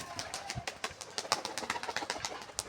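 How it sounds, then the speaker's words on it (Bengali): Pigeons lifted up and released into the air, a rapid run of close wing flaps that forms a fluttering rhythmic beat throughout. "ওদের বাচ্চা পায়রা আছে তো পায়রাগুলো তুলে দেয় ওপরে"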